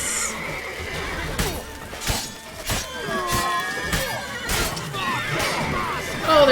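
Several horses neigh and whinny loudly in quick succession in The Witcher 3, with clattering hooves and sharp crashing impacts mixed in.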